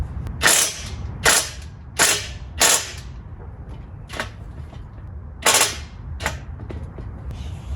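A 5/8 socket on an impact-style tool working a suspension bolt on a Honda Civic, heard as several sharp, loud bursts spaced irregularly, a cluster of four then two more, over a steady low background hum.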